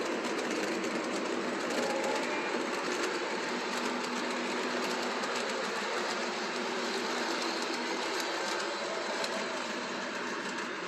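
ES 4400 AC model locomotive pulling a long heavy model train up a four-level layout, a steady close whirring motor hum with continuous rapid clicking of wheels on track, no voices.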